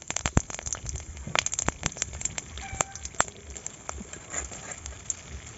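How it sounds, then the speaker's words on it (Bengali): Bay leaf, whole cumin and a whole dried chili sizzle and crackle in hot mustard oil, with irregular pops and spits over a steady frying hiss, close and moderately loud. "তেল গরম হয়ে গেছে, এবার আমি একটা তেজপাতা, গোটা জিরে, একটা গোটা লঙ্কা দিয়ে দেবো।"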